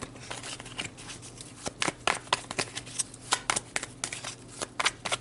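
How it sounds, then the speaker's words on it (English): Tarot cards shuffled close up, a busy run of crisp riffling and slapping bursts that repeat steadily with brief pauses between them, with no talk. "till I'm feeling the vibes, I'm going to be shuffling"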